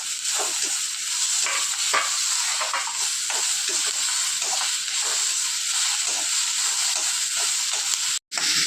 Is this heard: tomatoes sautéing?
yes